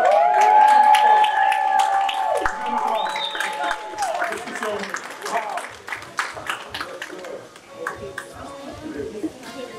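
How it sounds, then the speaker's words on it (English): Applause at a men's honors gala, with whoops and cheering voices over it and dense broadband clapping that thins out toward the end. "Give a round of applause."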